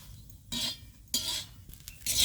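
Cluster beans (guar) tossed and stirred on a hot griddle, giving short scraping, rustling bursts of utensil against metal roughly every half second, close and fairly soft against a quiet background.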